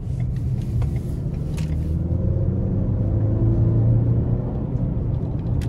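A 2024 Ford Explorer XLT RWD pulling out of a corner, its engine a steady low rumble heard from inside the cabin with a slight swell as it accelerates.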